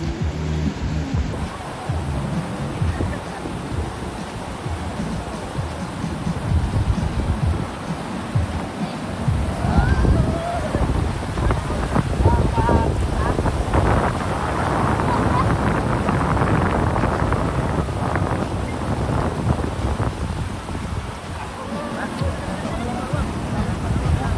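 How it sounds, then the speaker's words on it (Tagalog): Strong wind by the Labi River in Bongabon, Nueva Ecija, roars and buffets the microphone continuously, a loud rushing gust with faint, muffled voices underneath. "Sobrang lakas ng hangin, lamig pa."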